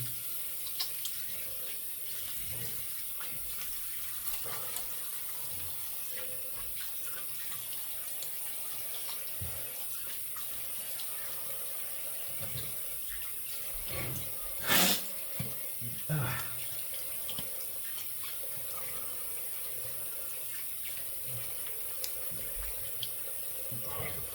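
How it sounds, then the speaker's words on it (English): A bathroom tap runs steadily to rinse a 2015 Above the Tie S1 slant razor after shaving, a continuous moderate water stream with a few brief splashes and clinks partway through. "let's rinse and do a little post action"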